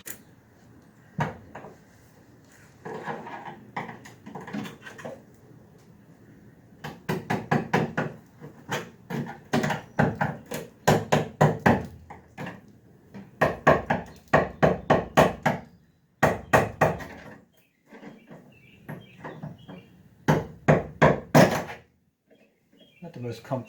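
Someone hammers out rusty sheet metal on a 1966 Dodge Dart body. Clusters of sharp, rapid metallic whacks come in uneven bursts, separated by quieter pauses, close and loud.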